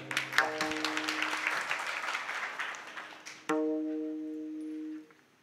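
An audience claps at a Navratri devotional kirtan: dense, rippling handclaps fill the first few seconds, then sustained harmonium-like tones ring out and fade.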